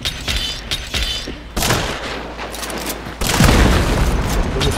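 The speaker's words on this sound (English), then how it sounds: "I'm gonna blow this up." Explosions and gunfire in a video game shootout, with a loud booming blast landing after a first burst of shots, then a longer, heavier rumbling detonation that fills the rest of the moment.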